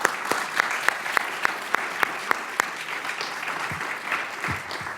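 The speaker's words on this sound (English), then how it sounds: "give me a round of applause for that team" Sustained applause from a crowd at a tech event's closing remarks, dense clapping filling the room steadily with a few louder individual claps standing out.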